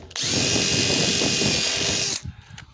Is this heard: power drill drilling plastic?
yes